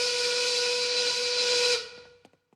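Loud, steady steam work whistle of the kind blown at a 1930s factory, holding one bright sustained tone for nearly two seconds before cutting off, followed by a few faint clicks.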